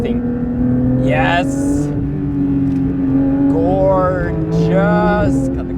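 A Porsche GT3 engine held in second gear climbs through its revs toward 9,000 RPM in a loud, steady whine that rises and dips, with a person speaking over it.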